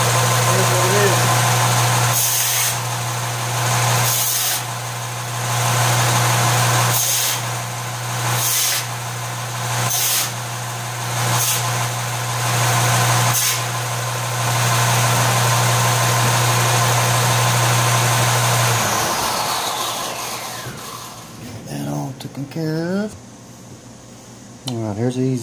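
Jeep XJ engine running with a modified vent, a steady idling hum with a strong low drone and intermittent rattling bursts, fading out toward the end as a person talks over it.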